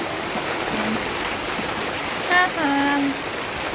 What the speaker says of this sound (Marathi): पहिला पाऊस नाही, पहिला त्या दिवशी झाला, तो दुसरा पाऊस आहे.